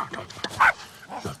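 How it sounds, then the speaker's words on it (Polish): A small dog gives a single short, sharp bark close by, amid surrounding speech and a soft whimpering quality. "Właściwie całkiem miły jest ten psiaczek."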